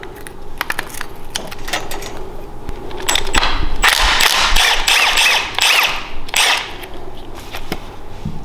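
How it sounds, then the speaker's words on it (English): Working brake pins out of an MB200 Trialmaster mini bike with a 4mm tool, a run of sharp metallic clicks, taps and scraping rattles up close, irregular and clustered, busiest in the middle, with no talking. "Got a 4mm to pull this brake pins out."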